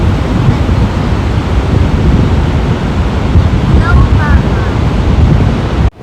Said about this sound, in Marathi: आवाज किती छान वाटायला लागला ते पाण्याची.